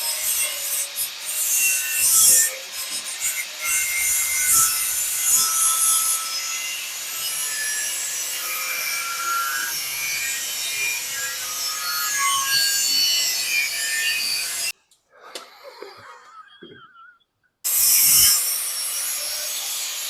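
Rhythmic back-and-forth sawing cuts through a section of exhaust pipe on an Audi S5 4.2 V8, close and rasping, with a brief pause before the strokes start again.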